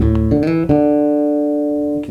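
Bass guitar notes in a melodic lick, each plucked and then held straight and steady without vibrato, loud and close with no voices over them.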